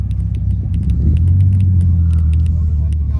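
Dodge Viper with a large rear wing idling at an Essex car meet, a deep steady low rumble close by and continuous, with people talking nearby.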